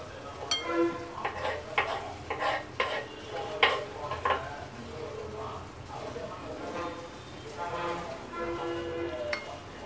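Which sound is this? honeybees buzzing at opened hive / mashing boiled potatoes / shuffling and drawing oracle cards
mashing boiled potatoes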